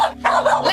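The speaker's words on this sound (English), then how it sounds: "she's barking, so she can't really hear you" A female dog barks in a short burst, a sharp close yip followed by a strained bark, loud and alone.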